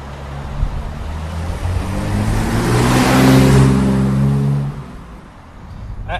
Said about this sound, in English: Ian is heading on off into the sunset with his E30